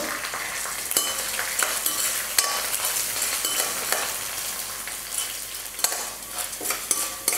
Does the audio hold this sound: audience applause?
no